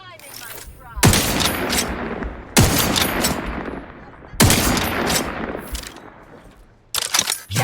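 Gunfire in The Outer Worlds 2: three heavy volleys of shots, each with a sharp attack and a long echoing decay, spaced a couple of seconds apart, with a final quicker burst at the end. The shots are loud and close.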